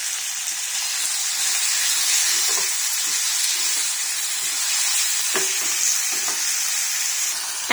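Tomatoes with salt sauté in a pan, making a loud, steady, close frying hiss with occasional soft stirring scrapes and crackles and no talking.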